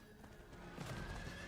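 A horse whinnies in the game Diablo IV, with a neigh rising midway and hooves clopping under steady in-game ambience.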